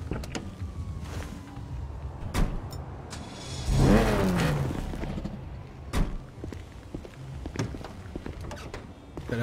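In GTA 5, a tuned Mazda RX7-style sports car revs and drifts, its engine wailing in rising bursts with tyre screech near the middle, set against steady road roar and sharp clicks.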